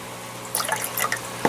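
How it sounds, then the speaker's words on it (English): Water from a dehumidifier poured into an indoor garden kit, a short burst of splashing and trickling that starts partway in and ends with a small splash, close and moderately quiet. "I'm just filling this with water from the dehumidifier."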